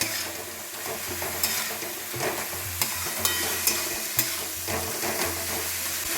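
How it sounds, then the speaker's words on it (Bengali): Gobindobhog rice being stir-fried with spices and banana flower, a close crackling sizzle with repeated sharp scrapes and knocks of a spatula against the pan at uneven intervals. "এবার আমি ভেজে রাখা গোবিন্দভোগ চালটা দিয়ে দিচ্ছি। খুব ভালো করে মশলার সাথে কষিয়ে নেব।"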